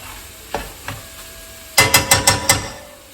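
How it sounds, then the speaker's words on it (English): Japanese fried rice being stirred in a wok: two light scrapes, a pause, then a quick run of five sharp, rhythmic clanks of the spatula against the metal over a soft sizzle. "this is why a wok is the best pan to do this in, so that you can stir without it going out of the sides"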